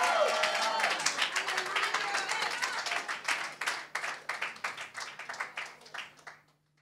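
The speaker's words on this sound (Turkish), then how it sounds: "Rab'be büyük bir övgü alkışı sunalım" Congregation in a church service clapping in praise, a loud burst of many hands that gradually thins into fewer, slower, scattered claps before stopping.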